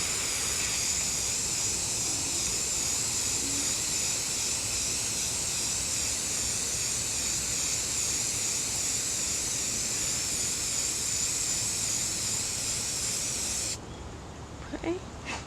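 Steady, continuous hiss of an aerosol spray paint can misting berry pink lightly over a mermaid scale ombré tumbler, loud and close, cutting off near the end.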